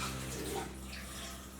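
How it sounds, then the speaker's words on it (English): Rice being washed in water in a pot, a brief, faint sloshing and swishing of water, alone with no voices. "Wash the rice a bit."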